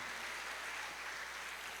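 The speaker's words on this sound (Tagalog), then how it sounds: "Lahat po ng gustong maging pagpapala, malakas na palakpak para sa Panginoon." A church congregation claps for the Lord during a Filipino service, a continuous soft wash of applause heard from a distance, faint and steady with a low hum beneath.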